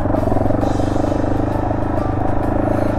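A Yamaha Serow trail motorcycle engine runs steadily and smoothly up close, a continuous low rumble with no talking over it.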